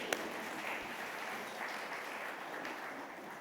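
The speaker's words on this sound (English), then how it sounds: "let's give him a round of applause for that" Steady round of applause from a conference audience, a dense even wash of clapping held at a constant level for several seconds with no voices over it.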